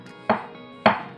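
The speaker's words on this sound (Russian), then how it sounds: "И тоже надо нарезать, конечно, соломка не получится и брусочком, но буду нарезать вот такими пластинками." Two crisp knife strokes through small champignon mushrooms cut into thin slices land on a cutting board about half a second apart, close and clear, with quiet between them.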